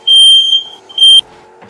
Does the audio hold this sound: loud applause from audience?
no